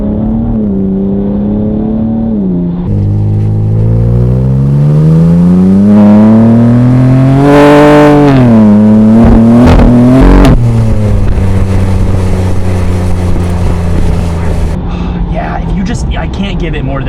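A modded 750hp 2024 BMW M2 accelerating hard from inside the cabin, its engine note climbing steeply through gears with quick shift dips and crackles, loud and close.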